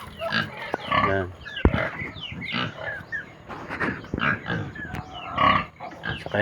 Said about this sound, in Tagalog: Ito naman mga idol, yung mga baboy.